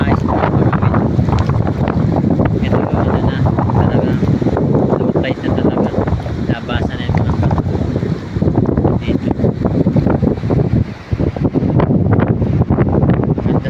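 Strong wind roars continuously across the microphone at a beach resort, a loud, buffeting rush with the wash of water and waves underneath.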